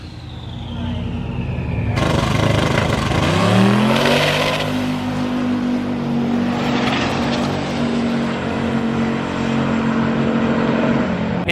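A loud race car launches hard down a drag strip, its engine revving and climbing in pitch before holding a strong, steady roar close by, with voices talking over it.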